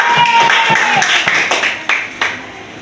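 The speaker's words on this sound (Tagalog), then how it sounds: "Bigyan ng limang palakpak ang ating mga sarili" A school class gives itself a round of five claps, the scattered handclaps of many pupils landing close together in a loose, slightly uneven burst around a group of voices.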